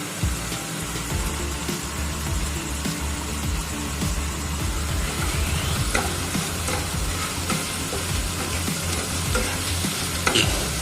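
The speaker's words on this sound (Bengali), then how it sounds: "মশলাটা ভালো করে কষিয়ে নিতে হবে, না হলে একটা কাঁচা গন্ধ থেকে যাবে।" Spice masala with cumin powder, turmeric and salt sautéing in a pan for a stingray curry, a continuous dense sizzle with frequent stirring scrapes and clatter over about eleven seconds, no talking.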